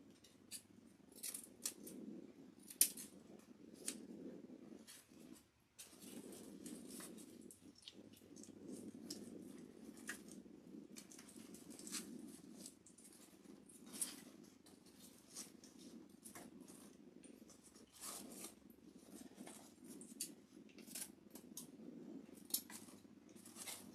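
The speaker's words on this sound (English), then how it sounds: "So let's go ahead and trim this." Scissors snip and trim, apparently through ribbon or paper on a holiday baking craft project, in steady, close, quick cuts with small rustles and clinks throughout, no talking.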